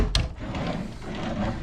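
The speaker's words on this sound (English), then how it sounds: "And then some drawers here." Wooden drawer in a cruise ship cabin sliding open or shut, a sharp knock at the start followed by a soft rubbing slide, quiet and close.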